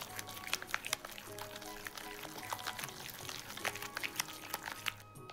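Oil is poured into a shrimp purée filling thickened with liquid cornstarch, giving a soft continuous trickle with faint clinks and rustles close by.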